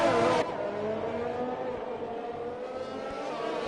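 Race cars from an F5-class round of an online racing video game at a Russian circuit, engines droning steadily in a continuous pack under overcast conditions, with a brief louder burst at the start before settling into a sustained mid-level roar.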